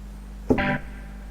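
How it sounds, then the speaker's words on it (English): A single short organ-like chord from a Ferrofish B4000+ clonewheel organ module with reverb, bright and slightly distorted, ringing out briefly with a reverberant tail over a low steady hum. "you can hear the reverb there."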